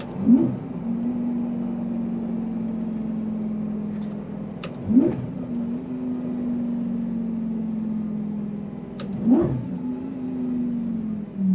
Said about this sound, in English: Downshifts that give me life. Listen to this.